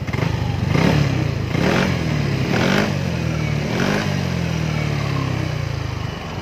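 A Yamaha motorcycle with a bored-out stock exhaust runs nearby with a deep, fairly soft exhaust note, revving up a few times over a steady idle.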